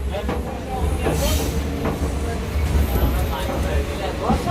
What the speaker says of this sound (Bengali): এখন দীঘার ট্রেনে উঠে পড়েছি